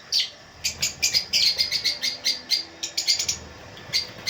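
Gouldian finches in an aviary give a rapid series of bright, short chirps, fairly close and steady, repeating in quick bursts with no talking.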